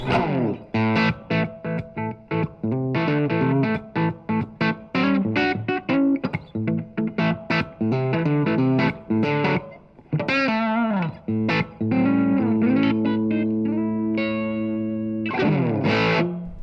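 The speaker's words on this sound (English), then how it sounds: "I'm going for a crunch, medium to high gain, with a room reverb to give you that vintage feel" A crunchy, medium-to-high gain electric guitar through a Blackstar ID:Core 100 amp plays chords and single-note runs, with a roomy reverb tail, loud and continuous with no talking.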